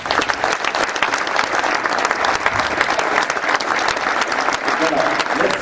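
Sustained applause from an audience clapping for players after a basketball shooting demonstration, dense and steady throughout at close range with no one speaking over it.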